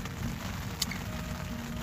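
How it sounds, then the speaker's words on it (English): Rain falling on a tent at Kennedy Meadows on the Pacific Crest Trail, a steady soft patter of drops drumming on the fabric, with one sharper tap standing out. "it's raining today"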